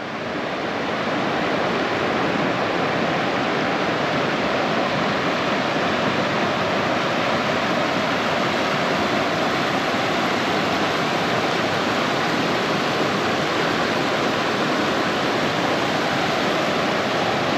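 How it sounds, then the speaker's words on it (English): A steady, loud roar of rushing water fills the whole clip, a dense broadband wash like a fast shallow river running close by. "I don't know if you can hear me over the"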